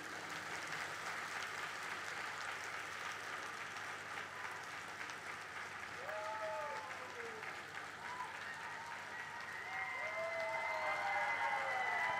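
Audience applause in a lecture hall during a spiritual talk, steady dense clapping at a moderate distance, with faint voices and a few whistles rising toward the end.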